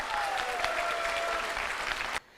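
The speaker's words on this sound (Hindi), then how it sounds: "इनके लिए भी जोरदार ताली बजना चाहिए।" Loud audience applause from a crowd at a business gathering, steady dense clapping for about two seconds before cutting off abruptly into quiet room tone.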